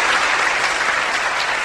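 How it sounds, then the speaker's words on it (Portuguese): A studio audience on a Manaus television program gives loud, continuous applause, a dense wash of clapping with no break. "Uma salva de palmas para a nossa Manaus, Ricardinho."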